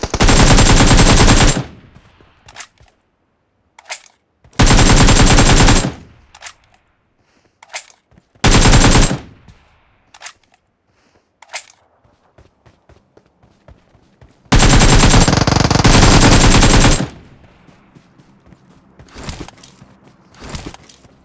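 Automatic gunfire from a mobile battle royale shooter, loud sustained bursts of rapid shots lasting a second or two each, separated by short single cracks and quieter gaps, with no talking.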